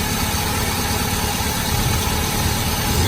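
A car engine idles loud and close with one cylinder disabled during a power balance test, a steady rough low rumble with vibration and no voices.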